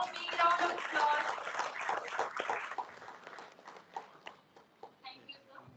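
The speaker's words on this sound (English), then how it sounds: "Let's have a big round of applause." Audience at an academic conference valedictory function applauds for a certificate presentation, dense clapping at first that thins into scattered claps as people speak nearby.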